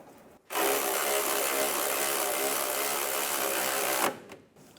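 An air-powered or electric power tool spinning down a sway bar link nut on a Chevrolet Cobalt during suspension work, one steady whirring burst of about three and a half seconds, close and loud, stopping abruptly.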